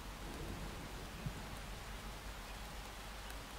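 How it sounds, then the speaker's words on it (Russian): Steady rain falls in the Miscreated video game, a continuous hiss of drops on surfaces with faint low thunder rumbling underneath, even and fairly quiet throughout with no talking. "Небо чистое, и дождь пошел. И гром, главное, загремел."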